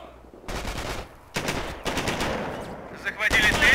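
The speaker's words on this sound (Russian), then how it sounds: "А нам стреляют из пулемета!" Machine gun fire in the World War II strategy game Company of Heroes comes as loud, continuous bursts of rapid automatic shots with brief gaps between volleys, over a dense battle din.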